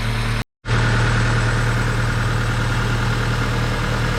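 A 1998 Honda Civic engine idles with a steady, low rumble close by and a constant hum, broken by a brief moment of silence near the start.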